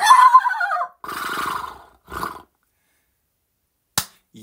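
A person imitates a horse neighing with the voice, a quavering whinny in a few bursts, close and fairly loud, followed by a short sharp sound near the end.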